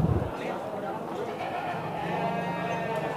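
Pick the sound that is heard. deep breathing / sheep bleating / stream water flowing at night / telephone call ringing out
sheep bleating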